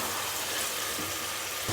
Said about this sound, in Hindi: अब इसको मज़ीद हम 5 मिनट तक अच्छे तरीके से इसकी भुनाई करेंगे।